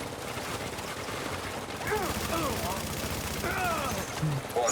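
Rapid, continuous automated turret fire in a video game, dense rattling bursts that run steadily throughout alongside whirring, chirping electronic effects.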